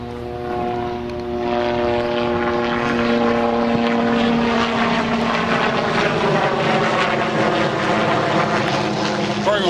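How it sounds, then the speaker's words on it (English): A helicopter drones overhead at a lakeside fireworks event with a steady rotor-like hum, growing slightly louder and holding strong as it passes. "Oh, a helicopter."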